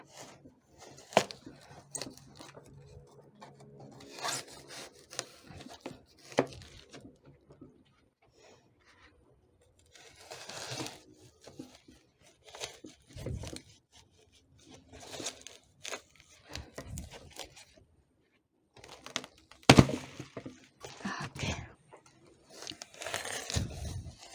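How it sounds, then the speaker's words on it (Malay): A cardboard box holding Bentong ginger rhizomes is torn open by hand: close, intermittent bursts of ripping and crumpling cardboard come in clusters, separated by quiet pauses. "Kita kena buka kotak ni."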